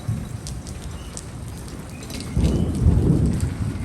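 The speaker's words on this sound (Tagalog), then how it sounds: "Ang kulog at kidlat." Thunder rumbles beneath steady rain on a road during a storm, a low roll that swells louder and closer in the second half, with no voices over it.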